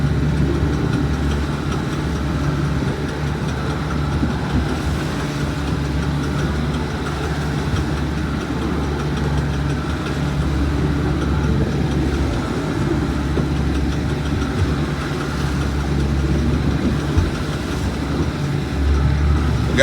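A boat engine idles steadily at low rumble during net fishing, a constant droning hum with no voices over it.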